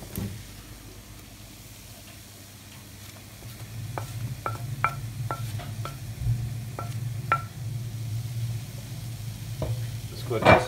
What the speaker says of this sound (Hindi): अब हम इसमें ऐड करेंगे फ्राई किए हुए ये मिक्स वेजिटेबल्स